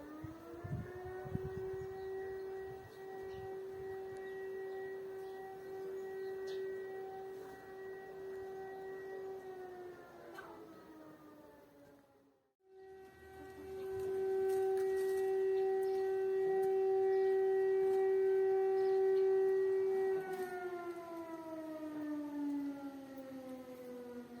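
An air raid siren wails in Ukraine, a steady sustained tone that falls away, cuts out briefly, then rises and holds again before sliding down, distant but dominant over a quiet village morning.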